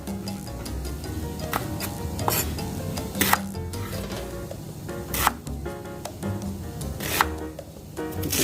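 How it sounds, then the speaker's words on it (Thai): Isan sausage being cut into large pieces on a board in a home kitchen, irregular knife chops that ring out sharply among stirring and pan clatter, with faint sizzling in the background and no talk. "จะหั่นให้เป็นชิ้นใหญ่ๆหน่อยนะ"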